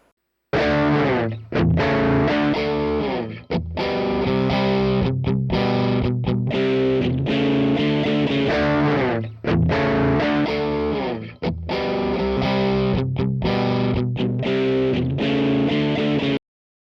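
A crunchy electric guitar plays chords and riffs through a Vox amp's normal channel, strong and full with brief pauses between phrases.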